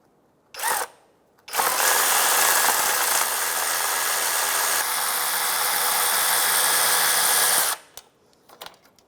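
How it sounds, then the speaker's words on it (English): A tool runs continuously at close range for about six seconds on a 2005-2010 Chevrolet Cobalt while the oil pressure switch is being loosened and removed, preceded by a brief burst and followed by a few small clicks. "I'm gonna put my ratchet on."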